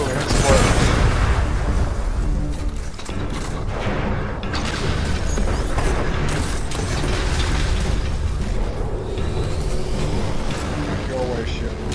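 A loud explosion in the sci-fi shooter Destiny: Rise of Iron bursts amid continuous dense combat noise and gunfire, with the broad roar sustained across the scene.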